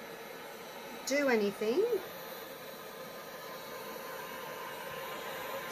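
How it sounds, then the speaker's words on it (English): A heat gun blows hot air onto resin in a steady, even hiss that carries through the whole stretch, with a brief spoken phrase near the start. "Now I'm going to get my heat gun, give it a little bit of heat"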